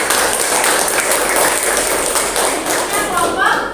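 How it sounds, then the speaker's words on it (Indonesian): A classroom audience applauds a presenting group, dense close clapping holding steady at a loud level, with a voice coming in near the end. "kasih tepuk tangan buat"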